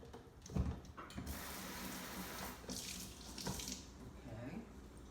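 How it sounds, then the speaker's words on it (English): A running kitchen tap splashes water as a spoon is rinsed, a quiet, steady stream with a few louder splashes and faint clinks, and brief murmured talk underneath. "Rinse it out."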